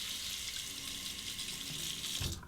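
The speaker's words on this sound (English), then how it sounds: "All right, let's rinse that." A Razorine Flatboy razor is rinsed under a running tap, a steady hiss of flowing water lasting a couple of seconds before cutting off abruptly.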